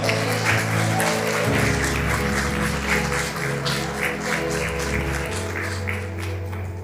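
Steady applause from a church congregation, dense clapping over sustained organ-like musical tones, continuing at an even loudness throughout.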